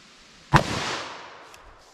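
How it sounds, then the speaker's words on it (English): One sharp .357 Magnum gunshot fired with Sig V-Crown ammunition into denim and MDF, a single loud crack followed by a short decaying echo. "let's go above that with our 357 Magnum"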